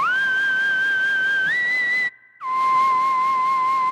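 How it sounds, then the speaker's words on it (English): Whistle lead patch on a Korg microKORG synthesizer plays a pure, whistle-like tone. One sustained note steps up in pitch, then after a short gap a lower note holds steadily, loud and clean with no voices. "now let's do whistle lead because I can do that right now"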